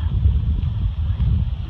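Steady, heavy wind buffeting the microphone with a low rumbling roar, continuous and loud throughout, on the cold summit of Wind Rock along the Appalachian Trail.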